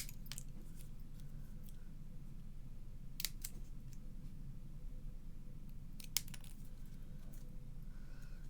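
Scissors trim the edge of a handmade Easter card, with a few sharp snips standing out over a steady low background hum; no one speaks.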